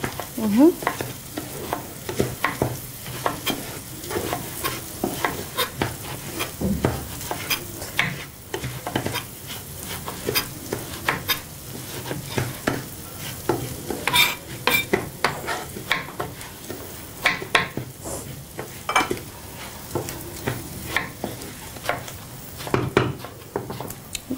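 A utensil stirs rice frying in a pan, scraping and clacking in a steady, uneven rhythm over continuous sizzling, close and fairly loud throughout with no talking.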